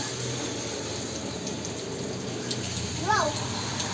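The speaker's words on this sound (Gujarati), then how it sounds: "વરસાદ ચાલુ છે" Steady rain falls outside a home during a monsoon downpour, a continuous close hiss of drops and running water, with a brief chirp near the end.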